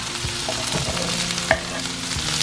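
Zucchini sizzles and crackles in a hot pan with soy chorizo, a close, steady frying hiss broken by a few scraping stirs and one sharp clink.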